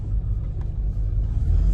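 A Land Rover Discovery being driven after repairs, a steady low engine and road rumble from inside the vehicle, moderately loud and continuous for a couple of seconds, with no talking.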